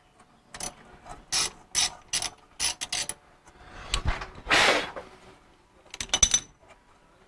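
A ratchet wrench clicks through short bursts of turns on parts of an 8.2 10-bolt Eaton posi axle in a '37 Ford truck, the close ratcheting coming in spurts separated by pauses, with a longer grinding pass near the middle.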